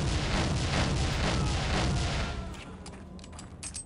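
Rapid, continuous gunfire in the video game Soldier of Fortune rattles loudly in a dense burst, then tapers off after a few seconds into scattered shots and a quieter background.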